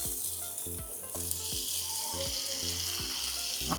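Raw chicken added to browned onions sizzling in a pan, a loud steady hiss with rhythmic low thumps and scrapes as the pieces are stirred and turned, close up and without talk.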